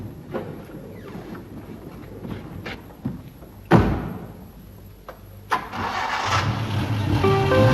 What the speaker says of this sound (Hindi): हल्के से इशारे से स्टार्ट हो जाती है सर।